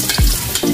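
Chopped garlic sautéing in a hot pan for a tilapia and coconut milk dish, a short, close sizzle with a quick stir-scrape partway through.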